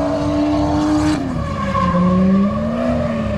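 A K24-engined Nissan Cefiro revs and climbs in pitch, its tone sweeping upward steadily and loudly without pause, a brief tire squeal mixed into the roar.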